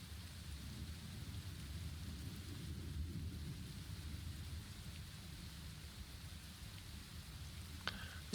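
Steady rain falls outside a house, a dense, even hiss with a low rumbling bed throughout, no voices, and a brief sharp knock near the end.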